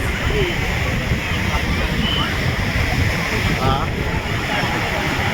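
Sea waves and wind along Marine Drive in Mumbai, a continuous close wash of surf mixed with wind buffeting the microphone, with faint background sounds under the steady roar.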